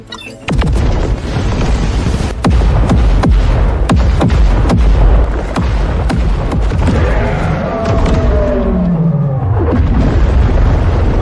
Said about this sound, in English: Coastal Battery, focus all fire on target B.